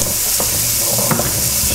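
Onions and celery are stirred in a hot pan over medium heat, giving a loud, steady, close sizzle with a couple of faint scraping strokes underneath.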